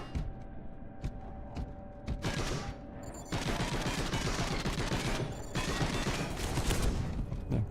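Gunfire in the Warhammer Space Hulk video game: sustained rapid automatic bursts with heavy thumps, continuous and loud across the span after a quieter opening.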